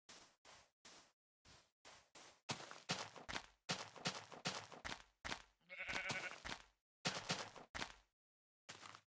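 Sheep in a video game bleating over and over, clipped and repeated in short bursts with gaps of silence between them, some calls stacked closely, clear and up front.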